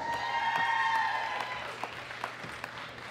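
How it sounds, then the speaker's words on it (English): An audience at the 2018 World Classic Powerlifting Championships, junior men's 105 kg, applauds a medal winner. Dense clapping fades away, leaving a few scattered claps under a faint sustained ringing tone. "Big round of applause for Rondell Hunt"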